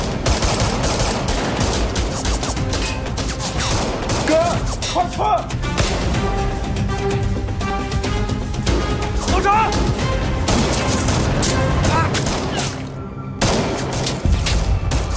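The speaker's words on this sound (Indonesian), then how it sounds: "Xiao yang sudah tertembak meminta Chang segera mengejar para tersangka" Gunfire during a police shootout with robbers in a crime film, rapid bursts of shots and crashes over dramatic music, with a voice talking over much of it.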